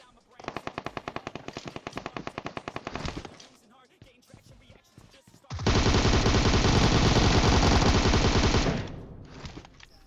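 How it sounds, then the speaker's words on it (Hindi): Video game gunfire: a rapid machine-gun burst for about three seconds, a short pause with scattered shots, then a louder, denser sustained volley lasting roughly three more seconds, close and prominent with no voices. "और आगे गोलियां भी चल रही होती है।"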